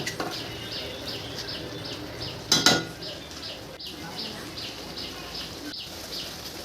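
Fried potatoes and chicken being stirred with spices in a pot for chicken kosha, with repeated clinks and scrapes of a utensil against metal, a louder clatter midway, over a steady faint background hiss.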